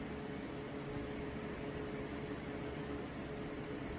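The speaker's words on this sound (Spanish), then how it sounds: "Y viene el ventilador, que ahí prendió." Cooling fan switched on by a temperature controller, running as a steady, faint, even whoosh of air with no change throughout.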